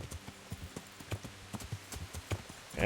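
Horse hooves clip-clop at a steady trotting rhythm in the Kingdom Come Deliverance video game, close and fairly quiet, with no other sound over them.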